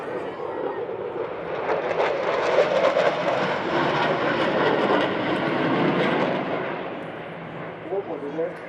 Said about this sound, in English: pulling the aircraft up into the vertical,